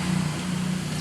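Steady, roaring wind from Typhoon Emong buffets the microphone in a constant low rumble, loud and close, with no clear breaks, in a cornfield.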